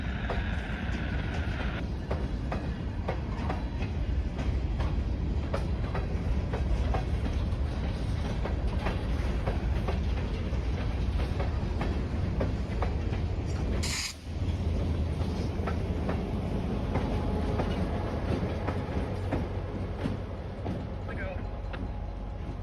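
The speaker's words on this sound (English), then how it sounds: "The configuration of downtown Canaan allowed for me to get a pacing shot of the train as it rumbled by." A Housatonic Railroad train rumbles steadily past in downtown Canaan, in the Berkshires in fall, with a loud, continuous low roar and rail clatter filling the whole stretch and a brief dip midway.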